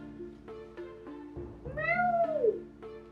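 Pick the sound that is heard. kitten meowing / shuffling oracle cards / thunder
kitten meowing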